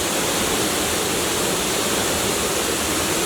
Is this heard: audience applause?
no